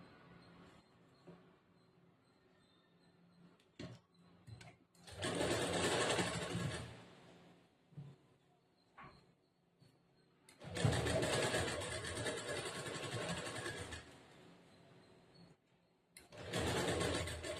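A sewing machine stitches a blouse seam in three separate runs, each a steady, fast mechanical whir lasting a few seconds, with quiet pauses and small handling clicks between them.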